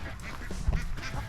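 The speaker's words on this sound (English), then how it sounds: "duck" Ducks being fed tortillas quack in a busy, overlapping chorus, close and lively, with low thumps and shuffling underneath.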